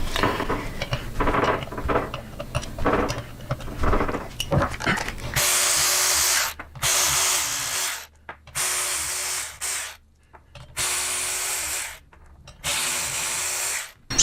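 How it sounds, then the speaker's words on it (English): Power tool driving Torx 40 bolts while a brake rotor is removed for a 21-inch Blazer wheel fitment. Bursts of whirring motor noise of varying length repeat with short pauses between them, after quieter clicking handling at the start. "Go ahead and take our rotor off. Torx 40 again."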